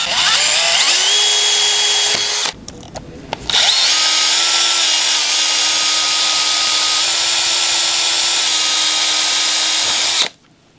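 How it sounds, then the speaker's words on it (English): A power drill with a 5/32 inch cobalt bit whines steadily at high speed, drilling out a snap fastener on pants, briefly cutting out and restarting, then running continuously before stopping abruptly; loud and close. "Now we're going to drill it out. So I'm using a 5/32 inch cobalt bit."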